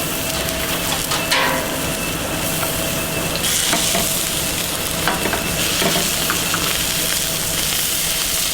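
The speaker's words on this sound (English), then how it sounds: "We need to cook the scallop. We need very high heat of the pan." Scallops sear in a very hot pan with a steady, loud, dense sizzle that runs throughout, with occasional stirring clatter and no talking.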